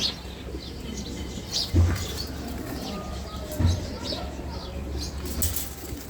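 Racing pigeons coo in low, soft bursts with occasional wing flaps and light chirps nearby, set against a busy background.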